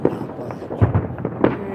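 Fourth of July fireworks in a Las Vegas front yard, a run of sharp pops and booms scattered irregularly at moderate distance, with no talk over them.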